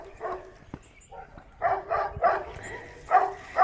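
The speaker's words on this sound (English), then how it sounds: "the dog's across the street are barking." Dogs barking across the street, a series of muffled, mid-distance barks in irregular bursts over quiet outdoor background.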